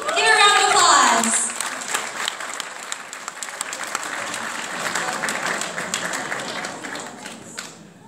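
A crowd applauds at a concert in a banquet hall, loud steady clapping that swells at the start and then settles into a dense, sustained patter with occasional sharper claps throughout.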